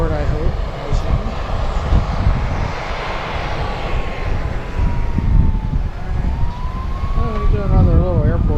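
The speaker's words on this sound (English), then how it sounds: "Can you guys hear the sirens?" A fire siren wails in the distance, rising and falling over a steady aircraft engine roar at Harrisburg airport, with voices talking nearby.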